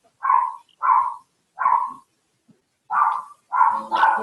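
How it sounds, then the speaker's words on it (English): A dog barks in a steady series of five or six loud, separate woofs with short pauses between them, the last two coming close together. "Can you hear that dog barking?"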